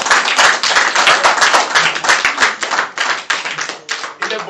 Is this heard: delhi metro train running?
no